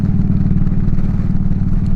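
A motorcycle engine rumbles steadily at close range on a cold-weather ride, a low throbbing idle-to-cruise drone with no voices.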